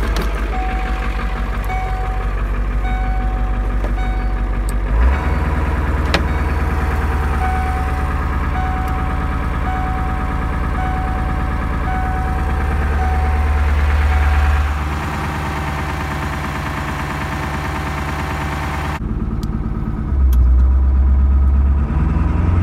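A Ford 7.3L diesel engine in an older OBS pickup runs at high idle, a steady loud drone with a strong low rumble and a faint repeating beep above it, briefly shifting in tone partway through.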